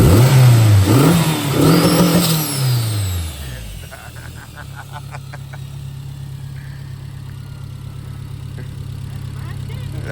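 A turbocharged 2006-2011 Honda Civic engine revs hard and then drops back, settling into a steady idle-like hum, with people talking over the start.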